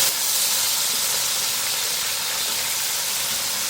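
Garlic-ginger paste with cinnamon fries in hot oil for Muradabadi chicken yakhni pulao, a loud, constant hissing sizzle that holds steady and then cuts off abruptly.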